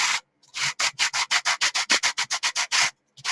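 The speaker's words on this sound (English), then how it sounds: "It's now time to sand, and I use a 100 grit sandpaper on this." Dry plaster is sanded by hand with 100 grit sandpaper in a quick run of about seventeen even, rhythmic rasping strokes, close and alone, with short gaps at the start and end.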